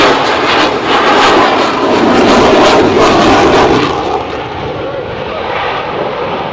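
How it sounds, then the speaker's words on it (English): A U.S. Navy F/A-18C Hornet jet roars past at an airshow, a loud, sustained engine rumble that swells and then slowly fades as it moves away. "He will reach show center at just over 300 miles per hour, demonstrate the superb nose authority and ability of the F-18."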